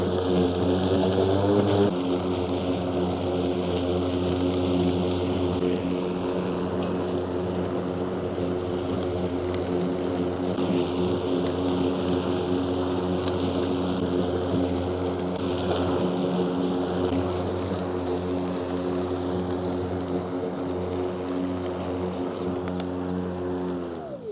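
A Ryobi 40V cordless electric lawn mower on its lowest setting hums steadily for the whole stretch, a constant droning whir close by with no voices.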